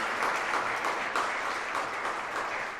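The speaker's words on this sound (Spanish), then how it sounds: "Quisiera pedirles un fuerte aplauso, por favor, para quien hoy nos fue nuestra ponente." A conference audience applauds after a talk, a dense, even wash of clapping hands that holds steady throughout, heard from within a large hall.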